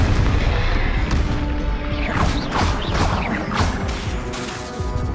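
Confringo explosion spells go off in the Hogwarts Legacy video game as a string of loud, close crashing booms with sweeping magical whooshes, layered over dense background game noise.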